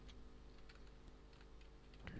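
Quiet typing on a computer keyboard while entering a localhost address for a PHP tutorial, a steady run of faint key clicks over a low background hum, ending in a slightly louder burst.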